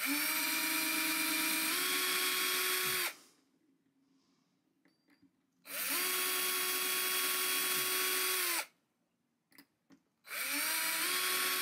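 A power drill boring pilot holes for screws in a 1950 Silvertone Econo-Archtop guitar, three loud whining bursts of a few seconds each with the pitch steadying, separated by quiet gaps with faint handling clicks.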